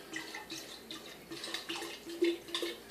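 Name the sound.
cider being poured into a glass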